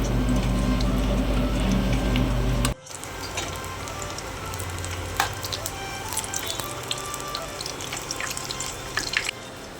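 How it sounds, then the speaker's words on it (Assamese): Taro pieces fry in oil with a steady sizzle, loud at first, then after a brief break a quieter crackle with sporadic pops and light clinks as the pieces are turned, no one speaking. "কচুকেইডোখৰ মই এনেকৈ লুটিয়াই লুটিয়াই চাৰিওফালে ৰঙাকৈ ভাজি ল'ম"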